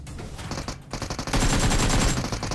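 Rapid automatic gunfire from PUBG Mobile, loud bursts of shots with a brief gap, then sustained heavy firing that continues to the end.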